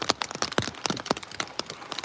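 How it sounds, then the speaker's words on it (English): Heavy rain pelts a surface at an outdoor eagle nest watch, with close, irregular drops and sharp spatters hitting rapidly over a soft wash of falling water, no voices. "The rain is really coming down."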